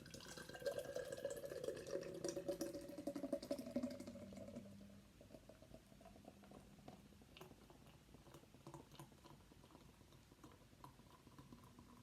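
Murphy's Irish Stout gushes from a nitro can into a pint glass, a soft close pour with fizzing and splashing for about four seconds, followed by a faint crackling hiss as the head settles.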